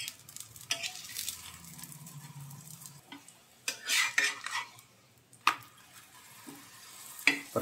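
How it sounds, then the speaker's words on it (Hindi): A ghee-brushed lachha paratha cooks on a hot tawa with a soft, faint sizzle, broken by scattered metallic clinks and scrapes of a spatula against the pan. "पराठे को दोनों तरफ से उलट पुलट कर सेकेंगे।"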